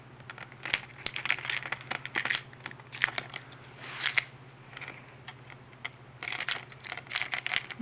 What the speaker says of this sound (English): You gotta take these little silver screws out.